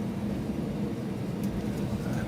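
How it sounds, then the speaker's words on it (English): Steady, even cabin drone inside an airliner cruising toward Helsinki, a constant low rumble with hiss on top and no speech. "So I finally got on the plane"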